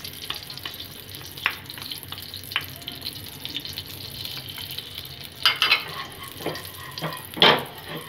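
Ghee and oil heating in a pan give a soft, continuous sizzle underneath, with running-water splashes and a few louder clattering bursts toward the end.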